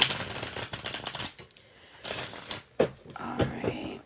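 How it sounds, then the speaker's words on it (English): Tarot cards being shuffled by hand, bursts of rapid riffling and slapping clicks separated by short pauses, close and moderately loud, with a few faint sounds between bursts. "That was a nice shuffle."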